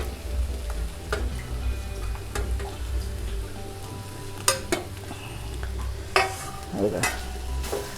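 Coconut and onion being stirred and dry-roasted in a heavy iron wok, with scraping strokes and scattered sharper clinks of the spoon over a steady low cooking rumble, close and fairly quiet.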